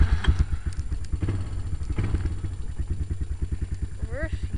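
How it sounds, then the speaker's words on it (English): Honda Recon 250 ATV with a gas engine running nearby, a rapid low chugging putter with clattery mechanical ticks, and someone talking over it. "It's a gas engine."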